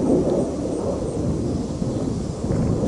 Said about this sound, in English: there's a loud jet flying over.